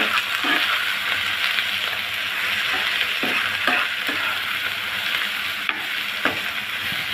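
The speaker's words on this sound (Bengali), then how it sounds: "এখন আমি নেড়ে চেড়ে 2 মিনিট ভেজে নিব।" Ash gourd leaves stir-fried in a pan with a loud continuous sizzle close up, broken by occasional scraping stirs of the spatula, no one talking.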